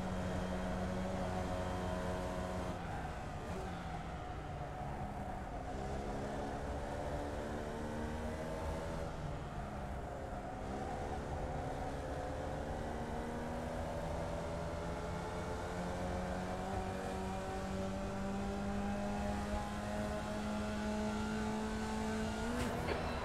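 Formula Vee race car engine in iRacing at Summit Point Raceway, revving up and down as the throttle is repeatedly applied and lifted, a continuous droning tone that sweeps in pitch over steady road noise.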